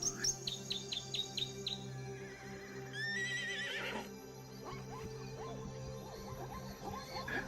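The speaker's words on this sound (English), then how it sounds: "They bond with each other through loud neighing and intimate rubbing" A herd of zebras in the African wild gives a few soft neighs and whinnies, faint and distant, among chirping birds and buzzing insects.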